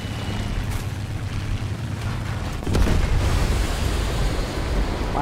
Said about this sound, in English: Wow, those bombs are fucking gigantic.